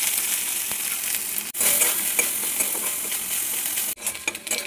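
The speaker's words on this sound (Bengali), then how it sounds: "এবারে নারকেলগুলো ভেজে নেব।" Grated coconut frying in white oil in a wok, a steady close hiss and crackle of sizzling with brief stirring scrapes and a couple of short breaks in the sound.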